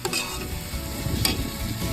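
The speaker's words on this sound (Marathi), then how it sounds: "कांदा भाजून झाल्यानंतर त्यामध्ये आलं लसूण पेस्ट टाकली." Ginger garlic paste fries in a pot over browned onion in an outdoor village kitchen, sizzling steadily up close while a spoon stirs and scrapes in short strokes, no voices.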